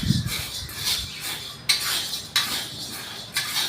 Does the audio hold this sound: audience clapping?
no